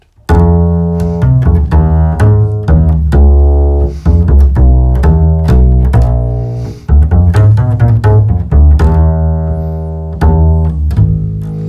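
A double bass plays a 12/8 Latin groove on a jazz tune, with loud, close, plucked low notes in a steady lilting pattern of triplet-feel pulses, played solo with no talking.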